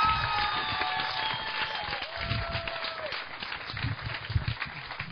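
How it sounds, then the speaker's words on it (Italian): An audience at a summer variety show applauds a singer, steady crowd clapping with a sustained musical tone over it, moderately loud and continuous. "lo voglio sentire con un forte applauso"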